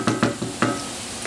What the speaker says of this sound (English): you'll know when that's ready because you'll hear it start sizzling